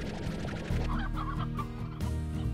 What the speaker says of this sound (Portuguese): essa área tá cheia de galinha